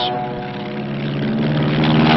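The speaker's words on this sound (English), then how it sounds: "The F-7F, known as the Tiger Cat, a new twin-engine fighter bomber. Powered by double Wasp engines" Grumman F7F Tigercat twin-engine fighter bomber with Double Wasp engines flying, a loud droning propeller-engine roar with steady tonal hum that swells slightly toward the end, no speech over it.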